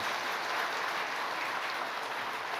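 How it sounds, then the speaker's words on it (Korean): A church congregation claps steadily during a Korean service in a dense, even wash of applause that holds at the same level from start to finish. "우리 안수 집사님을 위해서 박수 한번 합시다."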